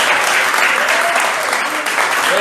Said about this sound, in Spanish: nuevamente un aplauso para todos ustedes